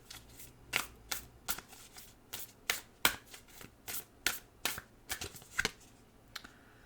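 Oracle cards from an Animal Dreaming deck being shuffled by hand, a rapid series of crisp flicks and riffles in an uneven rhythm, close and fairly quiet with no voices.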